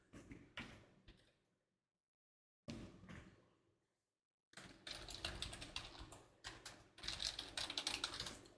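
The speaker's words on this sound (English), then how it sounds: "Does the keyboard get picked up?" Fingers tap rapidly on a computer keyboard in close, clicky bursts. The bursts break off into a full pause, start again, and then run into a longer, denser stretch of typing, with nobody speaking.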